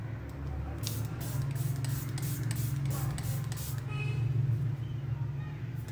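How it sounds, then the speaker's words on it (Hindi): A makeup fixer setting spray pump fires about ten quick, crisp hissing bursts of mist in a rapid rhythm, close and fairly loud over a low steady hum, then stops. "ये पानी के ड्रॉप्स नहीं आपको स्प्रे करेगा, प्रॉपर इसका जो पंप है ये देखिए"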